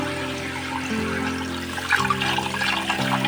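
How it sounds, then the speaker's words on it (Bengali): Potatoes are washed under running water in a home kitchen. A steady rush and splash of water flows continuously, close and moderately loud, with faint clatter and no talking. "ভালো করে আগে আলুটা ধুয়ে নিলাম আলুটা ধুয়ে নিলে কাটতে সুবিধা হবে"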